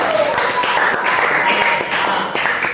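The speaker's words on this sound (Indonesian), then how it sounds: "beri tepuk tangan untuk kelompok kejadian" Steady, dense applause from a classroom group, filling the whole stretch without a break, given for a presenting student group during a teaching-practice lesson.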